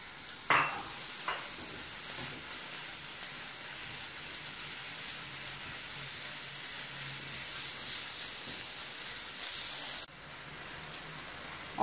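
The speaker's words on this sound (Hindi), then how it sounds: "ऑयल में लहसुन अदरक को सौटे करने के बाद मैंने इसमें कीमा ऐड किया था।" Chicken mince sautés in oil with garlic and ginger, giving a soft, steady sizzle with a few faint clinks of a utensil near the start, quiet and continuous without any voices.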